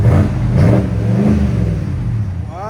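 A 2023 GMC Yukon Denali with a 6.2L V8 and a Flowmaster Flow FX cat-back exhaust revs loudly and close by, a deep, throaty roar that swells and settles through one sustained blip.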